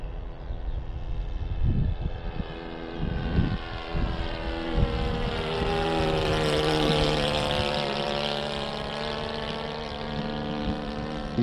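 A Tiger Moth model plane with a four-stroke nitro engine drones steadily overhead, its buzzing note rising and falling in pitch as it passes near and away, loud and continuous with no talk.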